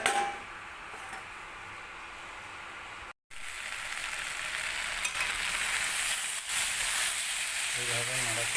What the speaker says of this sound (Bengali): এইভাবে নাড়াচাড়া করে ভালো করে ভেজে নেব